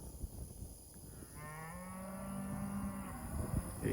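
Cattle in a pasture near shade trees answer a rancher's call with a long, drawn-out moo that rises and holds, carrying from a moderate distance over steady outdoor background noise.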